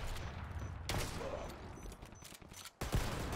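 A firefight in the Dirty Bomb video game brings bursts of gunfire, loud and dense, mixed with noisy game sound and sharp cracks near the end.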